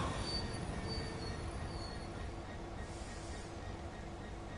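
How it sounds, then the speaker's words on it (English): Class 66 freight locomotive and wagons on emergency braking in Train Sim World, with a steady, close, loud grinding rumble of the wheels and faint squeal overtones that ease slightly toward the end, no voices. "The emergency brake just killed my momentum completely"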